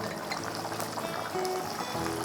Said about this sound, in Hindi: उसके बाद हम इसमें डालेंगे लेमन जूस